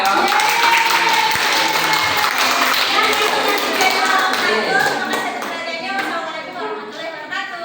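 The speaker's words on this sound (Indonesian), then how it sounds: "beri tepuk tangan untuk kelompok tab A ya" A classroom group applauds team A during a microteaching lesson, loud scattered hand clapping that slowly thins out, with a teacher's voice over it.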